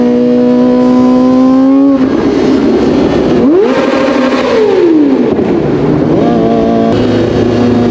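A Kawasaki ZX9R and a tuned Kawasaki Ninja ZX4RR ride together, with loud, close engine drone rising and falling through gear changes and revs, and a steady rush of wind throughout.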